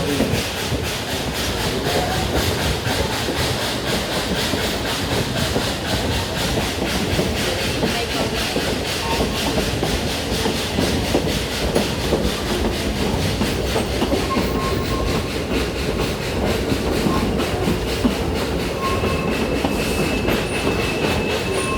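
Ride aboard a real steam engine train, railroad cars rolling steadily on the tracks with continuous rumble, clickety-clack and hiss, occasional faint wheel squeal, loud and close throughout.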